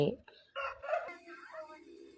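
A rooster crows close by near a chicken coop on a small farm, one short raspy call that fades into a drawn-out tail, with a brief bit of background noise at the start.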